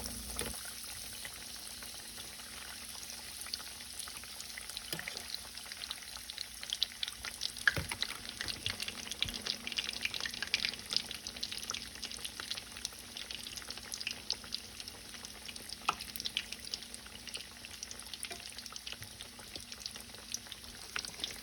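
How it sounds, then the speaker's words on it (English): Chicken cutlets sizzle and crackle steadily in a hot pan, with occasional louder pops and spatters, fairly quiet and with no voices. "I'm going to take each cutlet and add to the pan, and I'm going to fry it on both sides."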